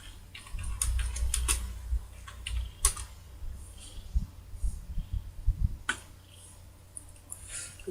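Typing on a computer keyboard, with bursts of close, crisp key clicks in irregular runs and short pauses between them.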